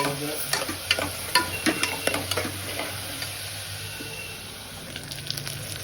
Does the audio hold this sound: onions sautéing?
yes